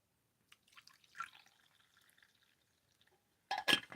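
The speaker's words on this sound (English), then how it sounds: "We're just going to pour off some tea" Tea pours from a pot in a quiet room, small scattered drips and trickles that turn into a short, louder splashing burst near the end, close and otherwise hushed.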